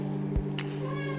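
A cat gives a single short meow close by inside an apartment room, over a steady low electrical hum, followed by a brief rustle.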